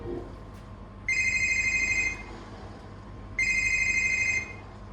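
A telephone rings twice during a stage play in Mumbai, each bright electronic trill lasting about a second, separated by a pause, over a low background hum.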